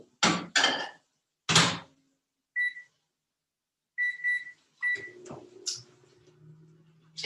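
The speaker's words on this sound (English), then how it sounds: "I'm going to throw it in the microwave." A microwave oven heats coconut oil, with several clicks and door thuds, then short electronic beeps, a steady low hum as it runs, and more beeps near the end; no voices.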